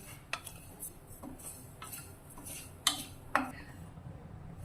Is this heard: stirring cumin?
yes